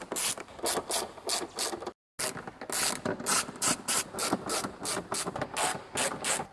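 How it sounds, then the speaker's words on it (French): A ratchet rattles in quick repeated bursts while undoing the mudguard fixing screws on a Megane 3 RS, with close rhythmic clicking strokes broken by a brief silent gap. "Maintenant on va défaire la multitude de vis, donc les pare-boues"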